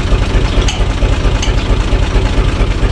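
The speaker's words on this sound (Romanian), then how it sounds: "o să încălzește motorul de tot" A UTB U445 DT 4x4 tractor's diesel engine idles while warming up, a steady, loud low rumble with an even chugging pulse and no voices throughout.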